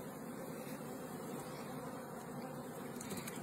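A dense, steady buzz of many honey bees humming together, close and continuous with no talking.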